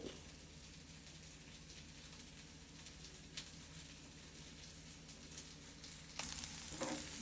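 Onions sizzle and crackle in a pan while cooking a boiled egg curry, a faint, steady hiss with scattered pops, quiet and close, with a brief stir or clatter near the end.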